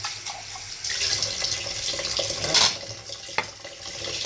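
Tap water runs steadily into a sink during washing, a close splashing hiss with brief clinks and bursts of spray, with no voices.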